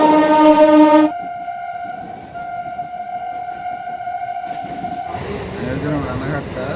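A suburban train at a busy railway station sounds a strong horn blast at the start, followed by a long steady tone over station rumble, then clattering noise and voices near the end.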